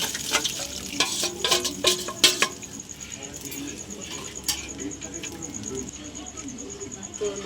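A spoon scrapes and clicks in a pan as milk with slit and whole green chillies is stirred, with a few sharp knocks early on and then quieter stirring over a faint simmer.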